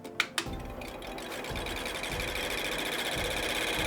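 A gaming PC packed with many fans whirs at a steady, moderately quiet level, opened by a few sharp ticks as a loose wire strikes a spinning fan blade.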